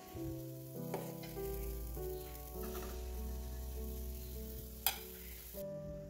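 Soft, steady sizzling of batter frying in a pan, close and quiet, with a brief clink of a utensil partway through.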